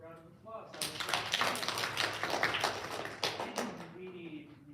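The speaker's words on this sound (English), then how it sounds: "Give yourselves a round of applause." Fifth-grade spelling bee audience clapping in a school setting, a brief burst of moderately close applause from a small crowd lasting a few seconds, with a speaking voice before and after.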